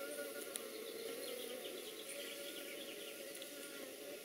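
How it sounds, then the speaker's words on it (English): Honeybees around an opened hive with brood hatching, a steady, faint insect hum with a droning tone that holds throughout, no talk. "here's a bee just came out and got a little bit aggressive."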